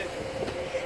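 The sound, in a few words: Class 156 train dividing at Kilmarnock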